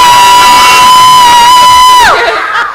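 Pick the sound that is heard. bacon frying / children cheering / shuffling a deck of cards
children cheering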